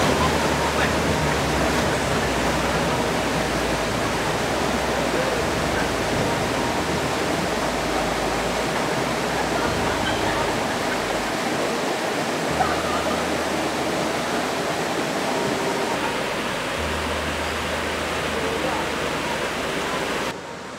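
River water rushes in a steady, broadband roar while vehicles cross one at a time on the way to a nature reserve, with a low engine rumble rising and falling beneath the flow.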